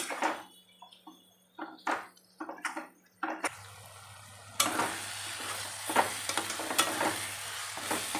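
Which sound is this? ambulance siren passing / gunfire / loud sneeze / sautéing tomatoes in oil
sautéing tomatoes in oil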